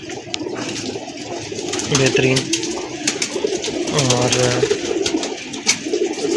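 A highflyer pigeon coos in two low rolling phrases close by, while someone talks over the cooing.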